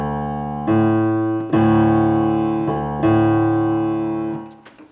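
A multi-drone didgeridoo tuned to D with its first trumpet note in A, giving a deep, buzzing drone that is played loud and close in three sustained blasts, each pushing briefly up into the higher trumpet overtone before fading out.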